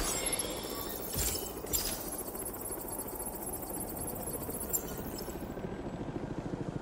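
A drone in the Spider-Man 2 video game on PS5 whirs with a steady, close buzzing hum, with a couple of sharp crackling hits early on and the drone sound tailing off near the end.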